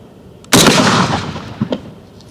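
A single loud, close shotgun blast from a Panzer EGX500 firing a Winchester 1 oz rifled slug, a sharp crack followed by a short booming echo that decays within about a second, with a faint mechanical clack after.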